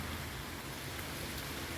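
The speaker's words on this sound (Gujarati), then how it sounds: "જો છે ને વરસાદ જો જોરદાર" Heavy rain falls in a steady, dense hiss with no distinct drops, moderately quiet and unbroken for the whole stretch, with no voices.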